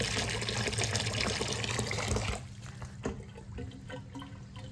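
Water gurgles and rushes steadily down a bathroom sink drain through the overflow, then drops to a softer trickle with occasional drips and bubbling as air is pulled through.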